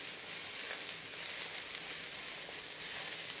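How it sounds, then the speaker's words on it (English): Green pepper and chili stir-fry in a hot pan for chicken chow mein, giving a steady, loud sizzle that holds evenly throughout with no talking. "After that, then let's go in our green pepper, then chili."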